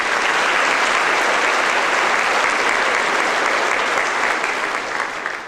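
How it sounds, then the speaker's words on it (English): Loud, dense audience applause fills a high school graduation ceremony right after the band's performance, a continuous wash of many hands clapping that stays strong throughout with no talk over it. "Let's give them another round of applause."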